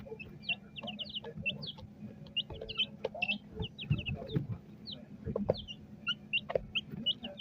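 Chickens cluck repeatedly at close range, short rhythmic calls in quick bursts over a low background rumble, with a few louder squawks mixed in.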